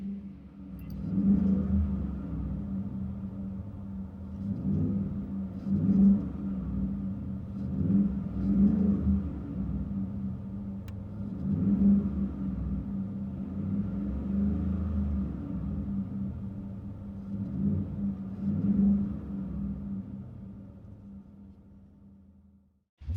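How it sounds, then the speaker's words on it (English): Inside the cab of a 2015 Ford F-150 5.0 with a Flowmaster Super 50 true dual exhaust, a moderate low rumble drones steadily, swelling in soft repeated pulses of revving with no talking. "Interior tone level is moderate to mild with this Flowmaster Super 50 true dual exhaust."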